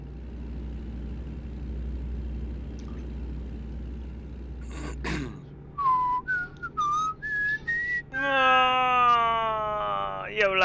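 Someone whistles a short high tune in rising phrases, close and fairly loud, following a steady truck engine drone on a highway in a truck-driving game session; the engine cuts out midway through.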